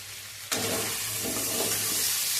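Kashmiri red chilli powder hits a hot pan of vegetables for a labra, setting off a sudden loud sizzle that holds as a steady, close frying hiss.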